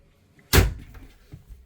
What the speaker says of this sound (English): Large wardrobe at the back, 3 doors. Let's pop it open